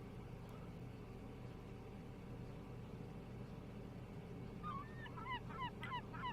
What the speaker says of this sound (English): Oh, seagulls at last.